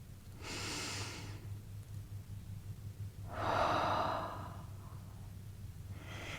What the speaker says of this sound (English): I invite you to join me in taking a breath